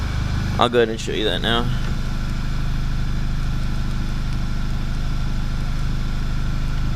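A Volkswagen MK6 GTI engine idles steadily with a newly fitted HPA intake, a continuous low hum that starts after a brief burst of speech.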